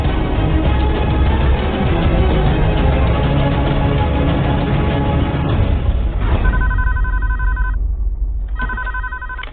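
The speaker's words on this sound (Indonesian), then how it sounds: "ada telepon" A telephone rings in repeated electronic bursts with short gaps between them, starting after a stretch of loud background noise, in an Indonesian office scene.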